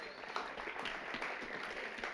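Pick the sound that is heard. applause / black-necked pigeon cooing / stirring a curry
applause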